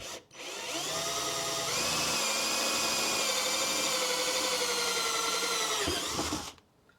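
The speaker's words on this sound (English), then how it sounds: "now you can see how easy it is to drill in this material" A power drill whines steadily for about six seconds, its pitch shifting slightly as it bites in, then winds down and stops.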